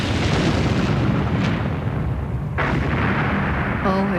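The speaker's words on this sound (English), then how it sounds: "Oh, it was a terrific explosion, a terrific one." A loud, continuous roar of a torpedo exploding against the ocean liner Lusitania rumbles throughout, with a sharper crack midway and a faint tone at the end.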